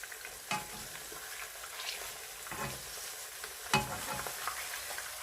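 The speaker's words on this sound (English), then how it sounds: "so I'll let that cook for about 1 or 2 minutes for each side to just brown, and then flip it over" A plantain burger patty fries in very hot oil, giving a steady sizzle and crackle throughout with a few sharper pops and spatters; no one speaks.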